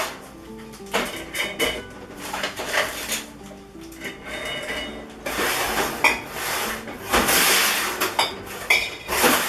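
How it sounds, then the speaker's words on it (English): Metal lids being placed onto empty glass quart jars in a pantry, giving a series of light clinks and taps in irregular clusters, close and fairly quiet with no talking. "So I'm just going to put these lids on to keep the insides of the jars clean."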